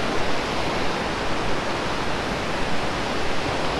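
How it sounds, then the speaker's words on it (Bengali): Water pours steadily down the rock face at Sahastradhara waterfall near Dehradun, a dense, continuous broadband rush heard close and loud with no voices. "তো উপর থেকে এরকম জল পড়ছে।"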